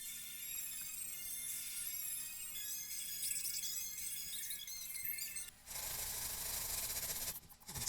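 Wood filler on a dresser being sanded down, a soft steady rubbing scrape up close and fairly quiet, with a brief pause and a change in texture near the end.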